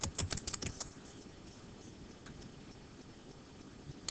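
Quiet computer keyboard typing, with a quick burst of clustered keystrokes at the start followed by softer, sparse taps over low room noise, no voices.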